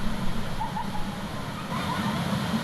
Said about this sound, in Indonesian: Ini air terjun estetik kalau musim hujan kayak gini nih.